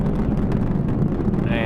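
An Atlas rocket carrying the MAVEN Mars probe climbs with its RD-180 engine at full rated thrust, producing a steady, loud, rumbling roar with a gusty, wind-like texture throughout.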